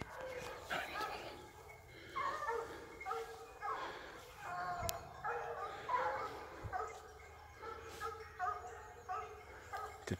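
Hunting dogs bark and yelp repeatedly in the distance during a wild boar drive, in rhythmic bursts of barking spread across the whole clip, faint but clear, with low voices in the background.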